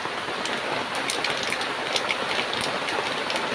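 Rain falls steadily outdoors as a soft, even hiss of drops, fairly faint and unbroken, with no voices.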